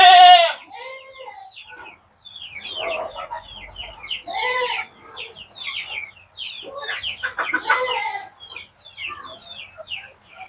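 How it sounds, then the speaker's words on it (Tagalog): Hungry farm goats bleat repeatedly while waiting for their feed, a run of loud wavering cries close by in short bursts and overlapping calls, with a few quiet gaps between. "Yung kadami yung kambing natin. Hihintay ng kanilang feeds."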